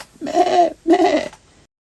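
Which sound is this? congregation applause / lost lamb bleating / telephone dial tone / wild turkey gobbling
lost lamb bleating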